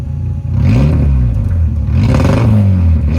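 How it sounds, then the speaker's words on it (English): Mk1 Rabbit pickup truck engine revving with the exhaust cut off, a loud, raw, throaty roar rising and falling through a couple of rev surges, close up with no talking. "Let's do a recap of what it sounds like with the exhaust cut off."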